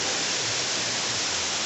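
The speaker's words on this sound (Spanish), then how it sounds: "vamos a acercarnos un poco más de la cascada" The Siloé waterfall roars as a loud, steady broadband wash of falling water, continuous and close with no voices.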